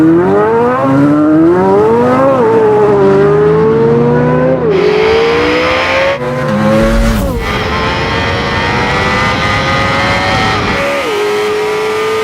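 A Corvette C8 Z06, Porsche 992 GT3, Ducati V4 SP2 and Audi R8 V10 launch hard together, engines revving and climbing through gears in a loud, close roar with shifts and a sharp burst midway.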